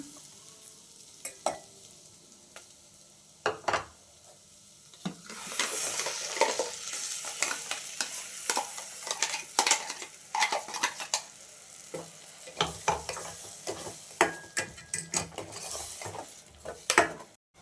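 Masala for palak paneer gravy is stirred and fried in a pan, with steady sizzling and repeated scraping and clinking of a spoon against the pan. The sounds are close and there is no talking.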